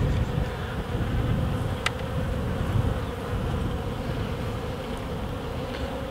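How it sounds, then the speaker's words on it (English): Honey bees humming in a small nucleus hive of a wild colony, a steady close drone with a few brief individual buzzes passing nearby, no voices. "There's a really tiny few amount of bees in here"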